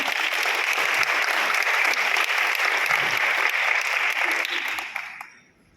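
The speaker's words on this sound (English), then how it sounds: "Can we give yourselves a big round of applause?" Loud, sustained applause from a large audience at a Nu Skin corporate kick-off event, dense and steady for about five seconds before fading out.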